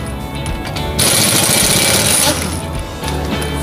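A power impact tool quickly loosens the wheel bolts on an Audi in a repair garage, giving a loud buzzing rattle of about a second and a half between quieter workshop noise.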